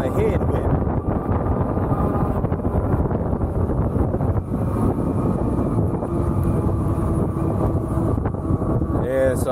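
Strong headwind buffets the microphone while riding an Ariel Rider Kepler V2 e-bike between lakes, a loud, continuous low roar of wind noise throughout, with a voice talking over it.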